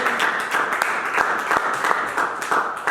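Applause from a church congregation, a dense patter of many hands clapping steadily and fairly close, with no talk over it.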